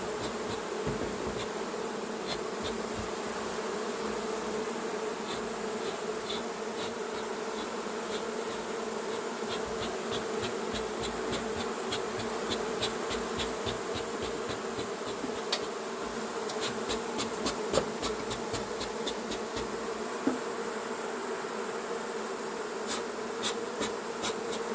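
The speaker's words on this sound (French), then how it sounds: "Il y a quelques abeilles" A recently settled honeybee swarm being collected at Vaux-le-Pénil hums in a dense, continuous drone, with individual bees zipping close by now and then. The buzzing stays steady and even throughout, with no voices.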